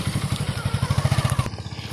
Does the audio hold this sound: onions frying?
no